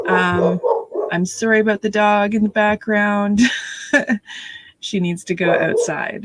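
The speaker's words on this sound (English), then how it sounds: "I'm sorry about the dog in the background." A household dog barks and yips in the background, short sharp bursts mixed in with close, continuous talking from a person.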